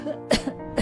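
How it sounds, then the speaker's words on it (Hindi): Two or three short, harsh coughs with brief gaps between them, close by and alone. "ये खांसी कब खत्म होगी?"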